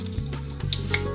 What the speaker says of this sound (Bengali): লঙ্কা দুটো ফাটিয়ে দিলাম